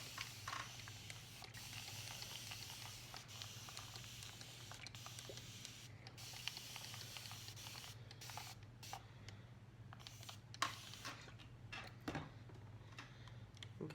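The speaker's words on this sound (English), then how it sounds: "I'm just gonna give it a good spray down" Repeated hissing bursts of aerosol hairspray on hair, short and steady, close by in an otherwise quiet room.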